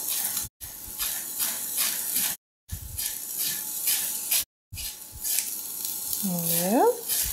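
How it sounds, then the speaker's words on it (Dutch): Onion and pointed cabbage sizzle in a pan with a steady frying hiss broken by short pauses, and a brief rising tonal sweep near the end. "Ondertussen mijn uitje al behoorlijk gefruit"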